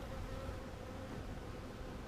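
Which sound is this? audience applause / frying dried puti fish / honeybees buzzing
honeybees buzzing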